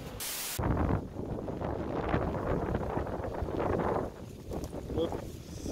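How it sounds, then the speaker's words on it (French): Strong wind buffets a microphone outdoors beside a beehive, a loud roaring rush that opens with a sharp blast, then holds steady and dips briefly near the end. "Il y a beaucoup de vent, je vais faire de la voix off"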